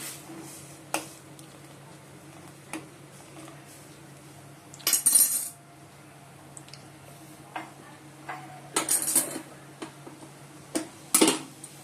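Pots, pans, woks and other kitchen utensils being put away, with scattered metallic clinks and clatters in short bursts, some single knocks and some rapid clusters, against a quiet background hum.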